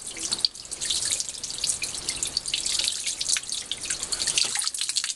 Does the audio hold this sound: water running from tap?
yes